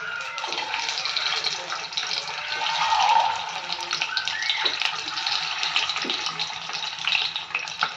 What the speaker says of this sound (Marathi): आता ही अंडी थोडीशी अशी फ्राय करून घेऊयात